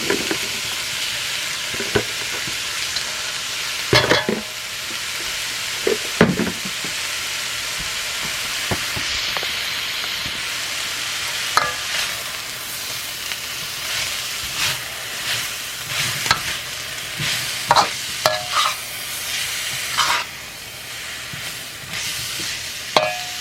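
Pork and bean sprouts stir-fried in a pan give a steady, loud sizzle with repeated scraping and clattering stirs throughout, nearby and without talk.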